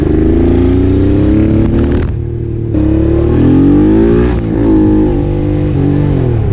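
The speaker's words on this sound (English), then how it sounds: "let's hop on the bike, put some heat into it, and go take it out for a ride" A Honda NT650 motorcycle engine revs loudly up close, pitch climbing and falling through several throttle blips with a brief drop between, no voices.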